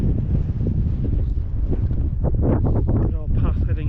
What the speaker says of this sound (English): the air a bit windy